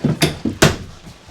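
Cabinet drawers in a 2027 Alliance Paradigm 382RK fifth-wheel RV being slid open and shut, giving two sharp knocks with softer rumbles between, close and alone without talk.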